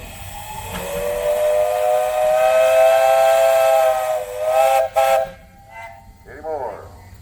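A steam whistle on a 1906 15-horsepower Russell steam engine at a steam and threshers festival blows one long, loud, steady blast over hissing steam. It cuts off with a few short toots, then a voice speaks briefly.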